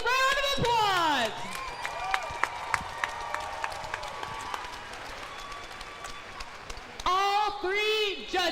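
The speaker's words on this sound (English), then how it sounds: "Let's give these ladies a round of applause." Applause and crowd noise fill a fight event as the audience claps for two female fighters, loud at the start and returning near the end, with a voice speaking over it and scattered claps between.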